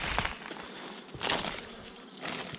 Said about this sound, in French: Plein d'abeilles